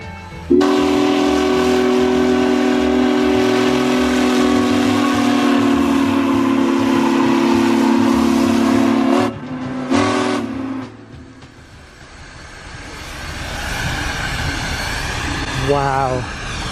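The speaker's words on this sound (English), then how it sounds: "That is a 4884 steam engine up here in Nunn, Colorado." Steam locomotive 4884 in Nunn, Colorado sounds a long, loud whistle blast for about nine seconds, then a short second toot, followed by rumbling train noise and a rising, fainter whistle tone near the end.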